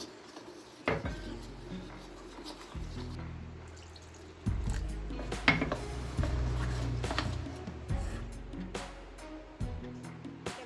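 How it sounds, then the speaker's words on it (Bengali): Jackfruit cutlet batter being mixed by hand in a bowl as water is added little by little, giving soft wet sloshing and clinks of a utensil against the dish, close and fairly quiet, with no speech. "এবার আমি ব্যাটারটা গুলে নেব, অল্প করে করে জল দেবো।"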